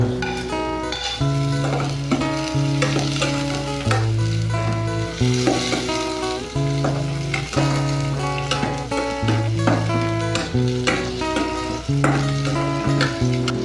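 Onion and garlic sizzle in hot oil in a pan, with a steady hiss and occasional stirring scrapes, mostly buried under continuous loud background music.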